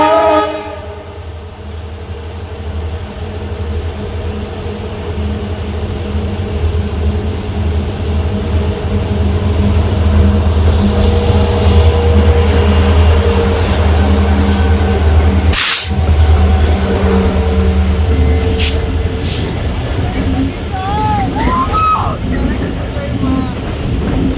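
Train passing at the Yedakumeri railway tunnel, a loud, steady rumble of rolling wagons throughout with horn-like tonal bands and a sharp burst near the middle. It is heard up close, with voices in the background.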